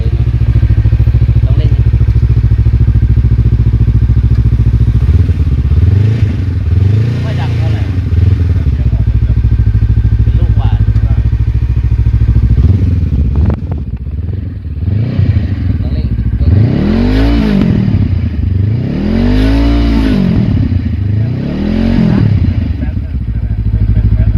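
A Honda CB500X motorcycle with a cut, modified exhaust idles with a loud, rumbling note, then revs sharply several times in quick bursts, with voices talking nearby.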